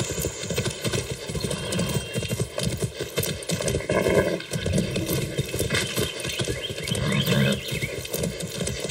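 Hooves pound in a steady, rapid clip-clop rhythm of a galloping horse in the video game Far Cry 6, loud and continuous, with some rumbling background noise.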